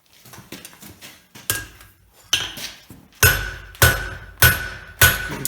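Hammer blows forging the bevel on a mosaic Damascus steel blade, a series of sharp ringing metallic strikes, lighter taps at first and then heavy, evenly spaced loud blows, close up with no talking.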